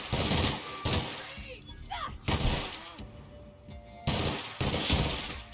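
Gunfire from a weapon in the video game The Outer Worlds, sounding as several loud bursts of rapid shots separated by short gaps, with a faint voice briefly audible between them.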